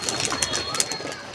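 Pigeons cooing close by in a rooftop loft, with soft repeated coos and fluttery chirps over steady outdoor background noise and faint talk.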